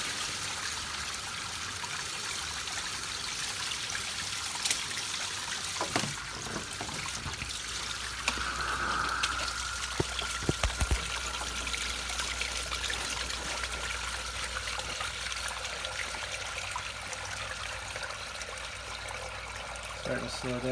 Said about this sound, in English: Let it drain a little bit so the pressure builds out.